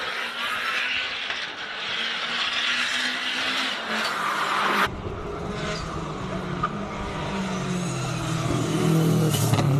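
A turbocharged 2.5 litre all-wheel-drive Subaru running a hillclimb course, its engine roaring steadily at a distance with rising revs, a rougher low-end rumble building halfway through as it draws nearer.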